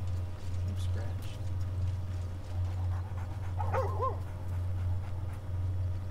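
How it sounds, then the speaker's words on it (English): A dog in Baldur's Gate 3 gives a few short whimpering yips near the middle, fairly soft under a steady low game drone with some talk around it. "where did the dog come from?"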